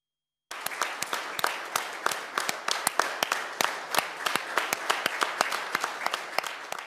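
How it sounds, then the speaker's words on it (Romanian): Parliament deputies give six dismissed policemen a standing ovation. After a brief silence, a room full of hands bursts into sustained, even clapping with sharp individual claps standing out, holding steady to the end. "Deputații din blocul Acum și cei din PSRM i-au aplaudat în picioare"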